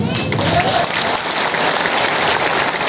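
Dense, loud applause fills a seminar hall as the audience claps steadily and continuously, a thick wash of hand claps with no pauses.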